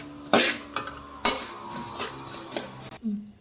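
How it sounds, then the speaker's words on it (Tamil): Black pepper is dry roasted in a pan for sambar powder, with sharp scraping and clinking of a spoon against metal, a few loud strikes followed by softer irregular stirring close by. "மிளகை நல்லா வறுத்து எடுத்துக்கலாம்."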